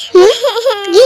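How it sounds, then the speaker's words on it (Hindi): A child cries in a Hindi-dubbed drama, a single loud, close, wavering wail lasting about a second. "ये रोने की आवाज कहाँ से आ रही है?"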